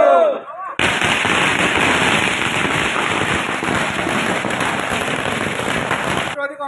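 A long string of firecrackers goes off outside a party office during a political victory celebration, a dense, rapid, loud crackle lasting several seconds, with voices heard briefly before it starts and again as it ends.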